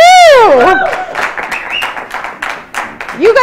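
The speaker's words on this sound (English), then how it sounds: "Round of applause." Studio audience on a live morning TV show applauding, with whooping cheers rising over the clapping at the start and again at the end; loud and close, a steady wash of hands between the shouts.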